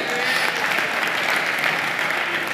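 Sustained applause fills a parliamentary chamber in Navarra, a dense, steady wash of many hands clapping at even loudness throughout, with a voice speaking faintly underneath.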